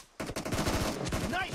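A rapid burst of gunfire in PUBG Mobile Lite team deathmatch, loud and close, with shots rattling in quick succession and a short game voice cue at the end.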